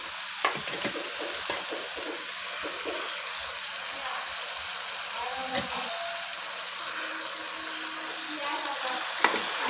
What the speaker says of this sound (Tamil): இப்போ வந்து நம்ம கீரை சேர்த்து வதக்க வேண்டியதுதான்.